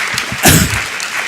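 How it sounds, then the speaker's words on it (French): Applause from an audience at a talk on child protection and educators' work: a steady, dense wash of clapping that swells briefly in the middle, with no voices. "on peut les applaudir"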